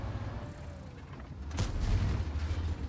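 Artillery shells landing in the tank game World of Tanks, a sharp distant boom at mid-clip over a steady low engine rumble, with no talk.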